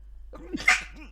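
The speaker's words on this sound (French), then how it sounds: "je vais éternuer, excusez-moi" One quick, sharp sneeze from a woman with a cold, close and fairly loud, with a small breathy lead-in.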